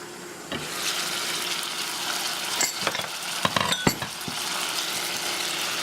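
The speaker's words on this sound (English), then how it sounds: "we're frying the chicken a little bit with the olive oil and the onions" Steady sizzling of chicken frying in hot olive oil with onions, a constant crackling hiss with a few brief clinks and stirring knocks near the middle.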